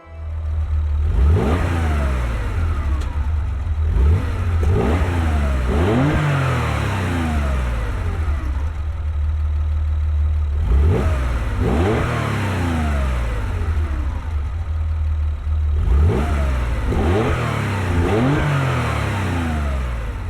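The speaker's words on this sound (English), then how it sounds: "I do like a good old Porsche." A Porsche in Gran Turismo 7 revs hard through repeated bursts, the engine climbing and dropping in pitch several times in a clear rhythm, loud and close, over a steady low drone.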